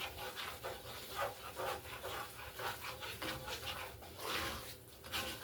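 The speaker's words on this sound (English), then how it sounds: "Keep stirring." A smooth flour-based sauce paste is stirred in a pot, giving continuous rhythmic scraping and swishing strokes, close and fairly faint.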